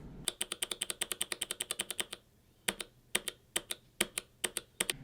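A mechanical keyboard with clicky Kailh Box White switches, 50 grams operating force, gives crisp, close clicks: a rapid run of keystrokes, a short pause, then slower scattered presses.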